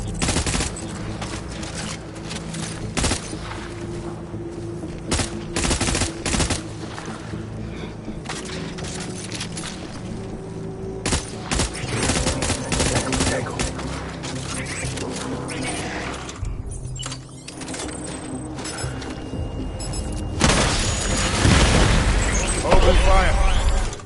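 Gunfire and explosions from the video game Death Stranding, heard as a dense, loud barrage of shots and booms that keeps going throughout and swells toward the end, with voices speaking over the combat.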